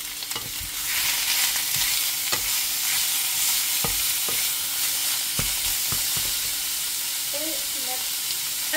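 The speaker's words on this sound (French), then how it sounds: "puis je fais revenir l'oignon et l'ail ensemble." Onion and garlic sautéing together in a pan, giving a steady, close sizzle with repeated stirring clicks and scrapes throughout.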